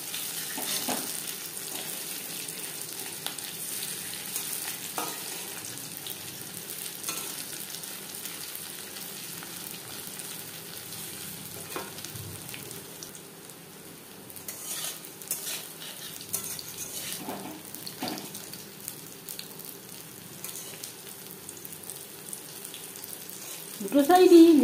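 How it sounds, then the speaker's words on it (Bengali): Fish oil pakoras sizzle steadily in hot oil in a pan, a soft continuous frying hiss with occasional light clinks of a utensil, moderately close and uninterrupted. "দুটো সাইডই লালচে করে ভাজা হয়ে গেছে।"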